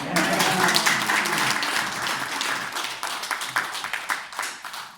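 A church or seminar audience claps together at an event in a Nigerian-style teaching session; the applause is steady and fairly close, with scattered louder claps and some voices mixed in.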